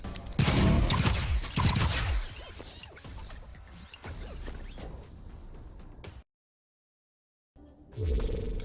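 Gunfire in the Atlas Reactor video game: loud sharp blasts and crashing impacts come at the start, followed by scattered clatter and whooshes, then a brief silence and one more burst at the end.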